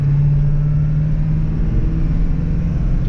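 A Ford Excursion with the 7.3 diesel engine rolls along, a loud, steady cabin drone with a low humming engine note and no speech over it.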